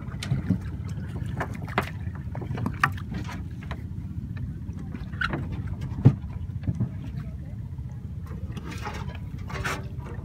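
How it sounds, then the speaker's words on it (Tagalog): Fishing boat engine on the water, a low steady rumbling drone with scattered knocks and clatter over it, fairly close, with faint voices in the background. "ito pagpapaandar ng makina ng bangka"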